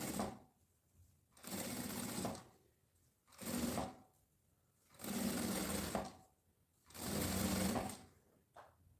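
A sewing machine runs in four bursts of fast stitching, each about a second or more long, separated by short quiet pauses, close and clear with no talking.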